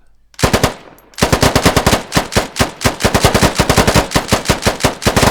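Rapid fire from a gun in the video game Squad: one shot, a brief pause, then a long fast train of sharp, loud, evenly spaced shots going on without a break.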